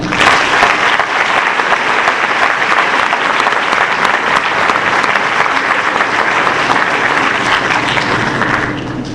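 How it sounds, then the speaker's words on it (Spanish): At a book presentation, a large audience claps loudly and continuously for about nine seconds in a thick, even wash of applause that tapers slightly at the end. "Todos, por favor, un aplauso."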